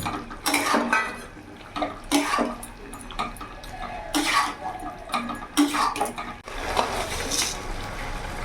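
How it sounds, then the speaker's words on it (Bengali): Fried bitter gourd pieces go into a pan of lau shukto, a vegetable curry with bottle gourd, and are stirred in with a series of sharp clinks and scrapes of metal on the pan over a faint wet background. "এবার এর মধ্যে আমি ভেজে রাখা উচ্ছেগুলো দিয়ে দেবো"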